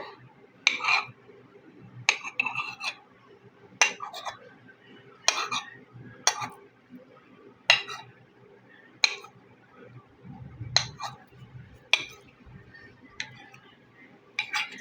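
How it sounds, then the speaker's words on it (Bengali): A knife cutting soft rasmalai in half on a plate: a series of crisp metallic clinks of cutlery against the plate at irregular intervals, close and fairly loud, with quiet handling noise between. "আমি রসমালাইটা একটু বড় করে তৈরি করেছি, তাই একটু কেটে দিচ্ছি।"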